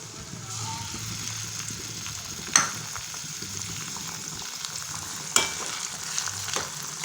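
Tomato and onion paste sautés in oil for a garlic gravy, giving a steady close sizzle with soft stirring scrapes and two sharper clinks of a spoon against the pan.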